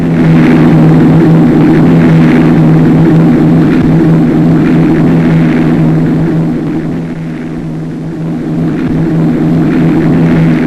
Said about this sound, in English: over 600 aircraft of all types set course for Odium